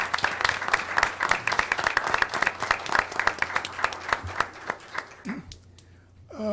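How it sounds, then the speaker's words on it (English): An audience at a board of education meeting applauding steadily, dense clapping that fades out toward the end. "I think all of you need a round of applause"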